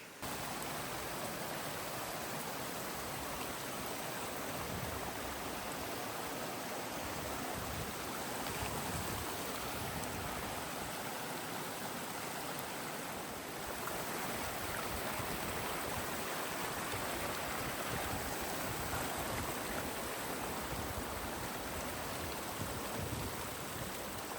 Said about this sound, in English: So now begins a series of many, many creek crossings